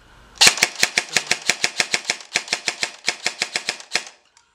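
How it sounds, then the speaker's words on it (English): An APEX Fast Attack airsoft gun fitted with a Classic Army M2 motor fires in semi-automatic: about two dozen sharp, crisp snaps in a rapid, fairly steady rhythm, loud and close, with a brief pause midway. "Definitely feels much more crisp in semi, in full auto."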